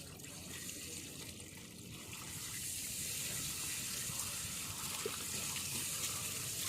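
Water running steadily from a pipe at a home construction site, a continuous broadband rush that grows slightly louder partway through, with no talk.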